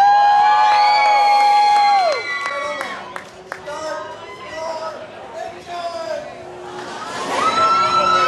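Riders on The Intimidator roller coaster cheer and scream together, loud high shrieks at the start and again near the end, with a rumbling, chattering stretch in between.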